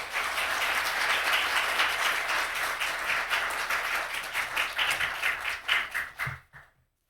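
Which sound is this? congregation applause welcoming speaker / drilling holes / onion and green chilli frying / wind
congregation applause welcoming speaker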